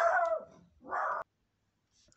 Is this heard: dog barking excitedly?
yes